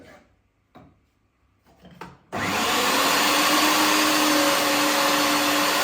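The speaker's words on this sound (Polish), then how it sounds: "teraz zacznę od zmielenia właśnie skóry, którą mielę na najdrobniejszym, na najdrobniejszym sitku" A meat grinder mincing scalded pork skin through its finest 3 mm plate starts abruptly after a few faint knocks, then runs as a loud, steady motor whir with grinding texture until the end.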